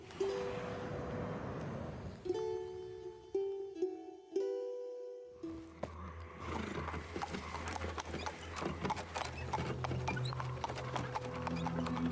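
Horses at a rest station in the PC game Black Book: hooves clip-clop and a horse whinnies, with game music notes and a low drone running underneath.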